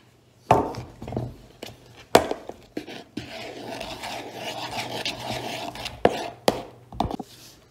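Homemade paint being mixed by hand in a container, with close scraping and rubbing strokes and a few sharper knocks spread irregularly over several seconds, no talk.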